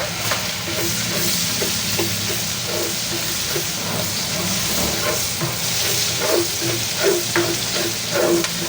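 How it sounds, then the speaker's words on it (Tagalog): Garlic and onion sauté in a pan, giving a loud, continuous sizzle with crackling bursts and scraping stirs that pick up toward the end, close by and alone without talking. "napakabong po ng bawang at sibuyas pag ginigisa"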